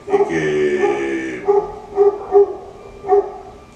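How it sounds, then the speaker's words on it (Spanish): A neighbour's small dog barks and yips in a quick series of sharp, close calls, one drawn-out whining bark followed by several shorter separate barks. "tenemos un perrito vecino, está ladrando"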